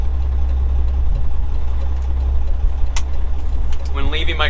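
An old 1998 nine-speed truck engine drones steadily and low while pulling a load, a constant rumble filling the cab, with a voice briefly heard near the end.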